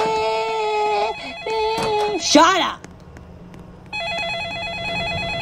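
Electronic phone ringtone at a gas station in a scary Roblox game, a steady warbling tone that starts partway through and rings on clearly, after a stretch of a voice talking and a short burst of other game sound.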